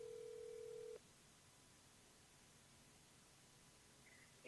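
A phone call goes unanswered: one steady ringback tone lasts about a second, then the line falls quiet, faint throughout.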